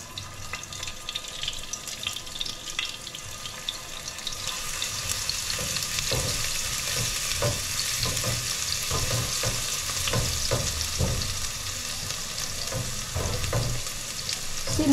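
Garlic sizzles in cooking oil in a pan, a continuous frying hiss that swells after a few seconds, broken by scraping stirs and clatters; no one speaks.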